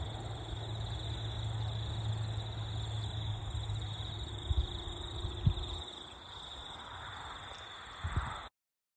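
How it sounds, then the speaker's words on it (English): Cicadas chirping in Australia, a steady high-pitched insect drone running throughout at moderate level, with a few soft knocks and rustles underneath and no talking. "Do you hear the cicadas?"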